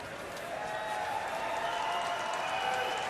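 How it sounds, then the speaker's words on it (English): A crowd applauds at a 2013 Brier curling match, Stoughton versus Martin, with steady, moderately distant clapping filling the arena for a few seconds. "putting it on the lid, the crowd has applauded"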